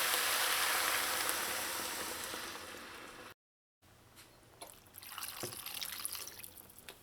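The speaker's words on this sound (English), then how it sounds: "you want to add enough liquid to at least partially cover your breadfruit" Coconut milk pours into a pot of breadfruit for Trinidad oil down, a steady close liquid rush that stops abruptly, followed by quieter drips and splashes.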